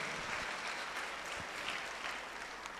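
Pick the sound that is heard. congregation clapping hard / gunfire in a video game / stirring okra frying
congregation clapping hard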